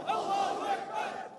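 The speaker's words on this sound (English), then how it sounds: "He broke down in tears as the crowd chanted" A rally crowd chants a religious slogan together, a loud massed chorus of voices rising and falling in one sustained, roughly rhythmic phrase.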